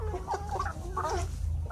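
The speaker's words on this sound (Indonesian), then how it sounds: "video update ayam petelur DOC 400 ekor" A flock of 13-week-old laying hens from a batch of about 400 clucks steadily and close by, with overlapping soft calls over a constant low hum of the poultry house.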